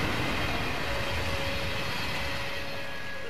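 A train in the TMNT Mutants in Manhattan game: a continuous loud rumbling roar of rolling rail cars with a faint whining tone, steady and close, with no voices.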